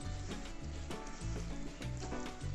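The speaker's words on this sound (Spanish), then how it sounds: "Vamos a revolver un rato, que se consuma un poco la leche" Oat and milk mixture stirred in a pot for an oat turrón, giving a steady close bubbling sizzle with rhythmic scraping strokes throughout, no talking.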